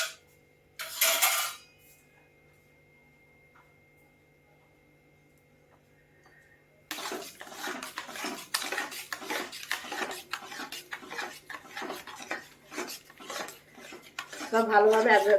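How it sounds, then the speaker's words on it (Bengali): A spoon stirs raw mango pulp mixed with green food colour in a metal bowl. A brief clink opens, then near-silence, then a run of repeated scraping and clinking strokes at a steady rhythm. "সব ভালোভাবে একবার সঙ্গে মিশিয়ে নিচ্ছি।"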